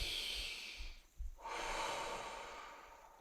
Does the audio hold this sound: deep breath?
yes